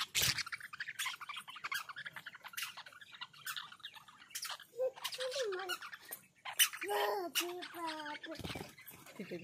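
Parrots squawk and whistle in short, sharp bursts, scattered and fairly close, outdoors, while people chat quietly nearby.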